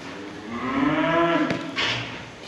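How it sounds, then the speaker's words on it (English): Cows in a shed give one long, drawn-out moo that rises and swells before fading, fairly close and clear, with a faint clunk partway through and a brief rustle near the end. "Cows are all looking happy."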